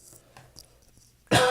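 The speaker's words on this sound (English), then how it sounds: "Sorry about all the coughing." A person coughs once, a sudden loud burst near the end after a stretch of near silence with only faint soft noises.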